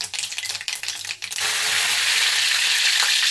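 Mustard seeds hit hot oil in a pan for a Maharashtrian kantoli vegetable dish, brief stirring clatter giving way to a loud, dense, continuous sputtering sizzle close by, with no voices.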